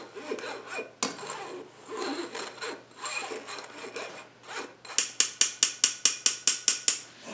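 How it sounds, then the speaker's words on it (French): A hand-crank flour sifter works through flour with salt and baking powder for a pie crust, giving a scraping, rasping churn that turns into a run of about ten sharp, evenly spaced ratcheting clicks, close and alone. "Et on tamise notre farine."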